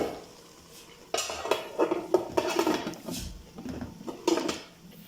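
Metal clanks as a lid is set onto a cooking pot, several sharp rattles and knocks at close range with faint sizzling underneath.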